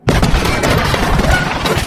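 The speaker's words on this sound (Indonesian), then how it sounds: "setelah ledakan barusan" A loud, sudden blast of a bomb-rigged ambulance rumbles on for about two seconds, dense and crackling like a vehicle bomb exploding nearby.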